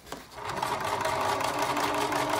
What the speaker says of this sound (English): now I'm just sewing the triangle lines that I created